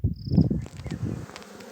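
Bees buzzing around a newly arrived swarm at a beehive during an inspection, a dense close drone that swells loudly early on and then settles into a steadier, fainter hum.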